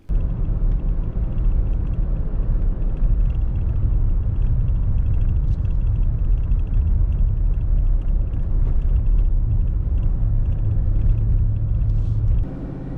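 A 2018 Nissan Titan SV pickup drives through a dark canyon road, giving a steady, loud low engine and road rumble that holds constant and eases slightly at the very end.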